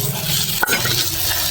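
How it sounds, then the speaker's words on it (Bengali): Mutton curry is stirred in a pan as fried potatoes are added, giving a steady sizzle and scraping. One sharp metallic clink from the utensil stands out against the pan. "আমি মাংসটা কষাচ্ছি। এবার আমি ভেজে রাখা আলুগুলো দিয়ে দেবো"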